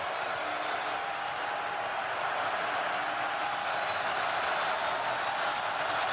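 Dense, steady roar of a large stadium crowd at a UFL football game between the Houston Roughnecks and St. Louis Battlehawks, a constant wash of massed voices holding at one loud level with no single voice standing out.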